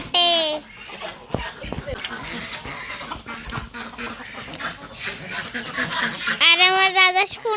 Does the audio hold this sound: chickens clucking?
yes